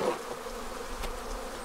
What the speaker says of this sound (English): So these bees weren't giving up